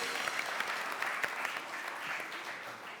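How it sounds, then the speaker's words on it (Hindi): Brief burst of audience applause at a wedding-themed show, moderately faint and steady for a few seconds with scattered individual claps standing out. "इस पे ताली बजाओ।"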